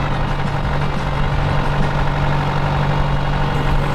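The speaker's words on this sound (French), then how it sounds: "Ça y est, je vois le tracteur arriver." A tractor engine runs steadily as it arrives to tow a 4x4 stuck in desert sand in Morocco, a close, constant low rumble and idle throb with no voices.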